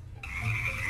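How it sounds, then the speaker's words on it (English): A frog gives a short croak, close and clear, starting abruptly after a brief quiet moment. "Frog!"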